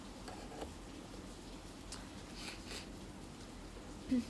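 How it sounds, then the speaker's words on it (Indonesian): Light rain falls softly and steadily, a faint, even patter with scattered tiny drops and no one talking. "Ya hujannya dikit doang."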